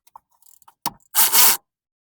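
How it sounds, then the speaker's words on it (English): Ratcheting wrench loosening a 14 mm bolt on the rear transmission mount of a Toyota Tercel/Paseo, heard as a few faint clicks, one sharp snap and then a loud, close, dense burst of metallic ratchet clatter lasting about half a second. "we're going to take off this 14 millimeter from the other side, loosen it"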